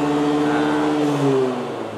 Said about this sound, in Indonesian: Jadi RPM-nya langsung naik tuh.